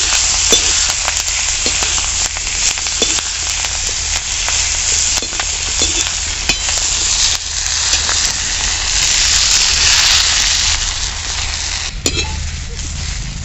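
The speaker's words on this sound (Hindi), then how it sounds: "जीरा हमारा चिटक रहा है तो अब मैं इसमें मेथी की पत्तियाँ डालूंगी" Fenugreek leaves fry with cumin seeds in hot mustard oil, giving a loud, continuous sizzle and crackle with occasional stirring scrapes throughout.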